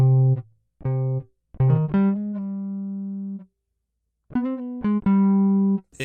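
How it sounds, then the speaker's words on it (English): Scarby Rickenbacker bass sampled in a Kontakt library: separate plucked bass notes, some short and some sustained, with clear bright attacks and gaps of silence between the phrases. "the go-to bass KONTAKT library, and that is Scarby Rickenbacker bass"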